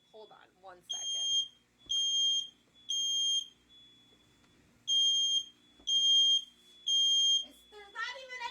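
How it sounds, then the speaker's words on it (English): A household smoke alarm gives a string of six loud, evenly spaced shrill beeps. A voice talks briefly at the start and again at the end. "the decision to get up and go wave a freaking book at the freaking smoke alarm."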